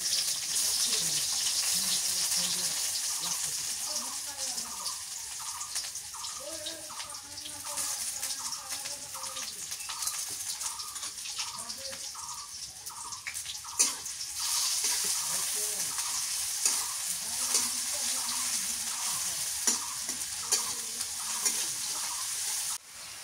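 Sliced onions frying in mustard oil in a pan, a steady soft sizzle with stirring scrapes running throughout, fairly quiet and close, while a voice talks over parts of it.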